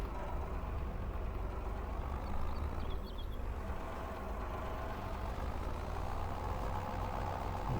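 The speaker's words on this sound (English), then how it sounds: "this tractor is reasonably slow when it's pulling the rake" A tractor pulls a hay rake slowly across a field, its engine giving a steady, low, droning rumble at moderate distance throughout, with no talking.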